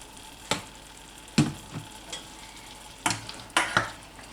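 Stir fry sizzling in a pan while a utensil stirs it, giving sharp scraping strokes at uneven intervals, some in quick pairs, over a quiet steady frying hiss, close up and with no speech.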